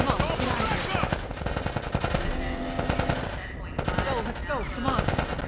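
Rapid automatic gunfire and scattered shots during a firefight in the video game The Last of Us Part I, loud and dense bursts over the whole stretch, with shouting voices mixed in.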